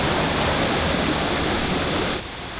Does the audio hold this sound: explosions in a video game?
no